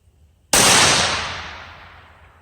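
A single sharp rifle shot from a Savage B-Mag in .17 WSM, loud and close, with a long reverberant decay trailing off over about two seconds.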